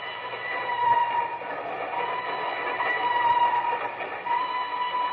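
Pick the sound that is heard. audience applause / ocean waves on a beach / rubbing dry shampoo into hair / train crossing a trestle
train crossing a trestle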